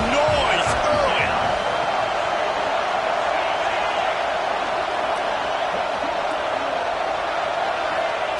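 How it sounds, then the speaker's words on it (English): A stadium crowd at a college football game between Louisville and Clemson keeps up a steady, dense roar of cheering and noise, loud and continuous, with faint voices blended into the din. "This crowd bringing the energy and noise early."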